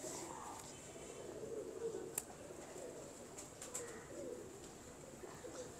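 Pigeons of a bred bloodline cooing softly in a loft, low murmuring coos repeating over a faint background with occasional light clicks and rustles.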